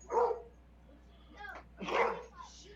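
A dog barks a few times nearby, sharp yelps mixed with whimpering, layered over background noise during an FPV drone session.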